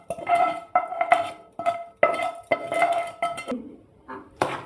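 Fried tempering spices stirred into curd rice, a spoon scraping and clinking against the bowl in a run of close, distinct taps and scrapes with no talk.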